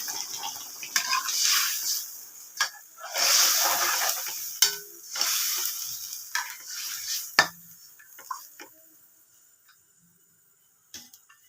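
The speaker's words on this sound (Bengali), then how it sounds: "ভালোভাবে ফুটে গেছে টকবক করে" Curry liquid in a pan bubbles and hisses in loud surging bursts, then dies down to near silence, with a few sharp clicks from a utensil toward the end.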